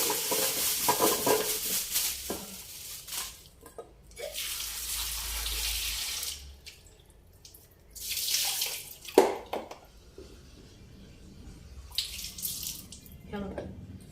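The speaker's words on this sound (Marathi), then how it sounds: "आवळा मस्त स्वच्छ असा चांगला धुवून घेणार आहे" Amla (Indian gooseberries) are rinsed under a running kitchen tap, with several bursts of water splashing and rattling in a sink between quieter pauses, some handling sounds, and a voice speaking faintly in places.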